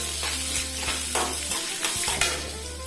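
A large onion fries in a pan, a steady close sizzle punctuated by several sharp scrapes and clinks of stirring.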